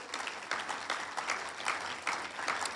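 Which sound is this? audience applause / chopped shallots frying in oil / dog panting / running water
audience applause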